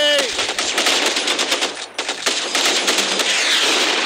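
Strafing machine-gun fire in a video game, a loud, continuous rapid stream of shots with a brief dip near the middle before the barrage resumes.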